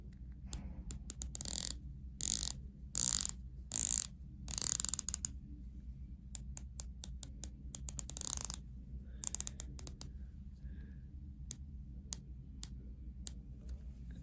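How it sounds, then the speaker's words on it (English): The rotating bezel of an Omega Seamaster 300 watch gives crisp, close ratcheting clicks. They come in quick bursts of rapid clicks and then as slower single ticks, heard alone in a quiet room. "Let's take a listen to the bezel action."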